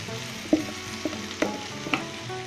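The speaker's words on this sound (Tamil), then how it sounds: "போட்டு நல்லா ஃப்ரை பண்ணுவோம்" Okra (ladies finger) fries in a pan with a soft steady sizzle while a spoon stirs it, giving four distinct scraping clinks at a slow, uneven pace. No one speaks.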